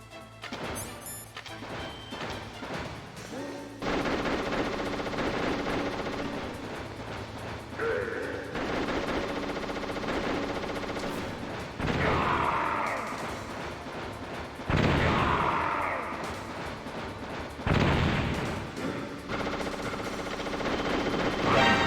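Enemy gunfire in the stealth video game Metal Gear Solid Integral, loud bursts and crashes of shots over a busy game soundtrack, recurring in several heavy stretches across the clip.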